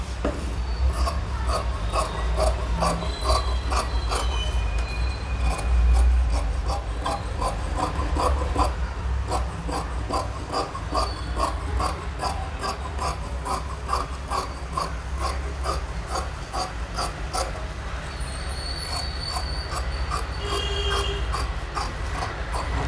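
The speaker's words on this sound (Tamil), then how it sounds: "கட் பண்ணிவிட்டு இதையும் கட் பண்ணிவிடுங்க" Scissors cut through churidar fabric in a steady run of close, crisp snips and rubbing clicks that carry on without pause, with no one speaking.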